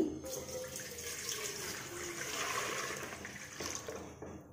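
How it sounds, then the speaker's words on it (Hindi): Three glasses of water are poured into a metal dhokla maker on a gas stove, a continuous splashing pour lasting several seconds, close and fairly loud, with no talking. "इसमें डालेंगे तीन ग्लास पानी"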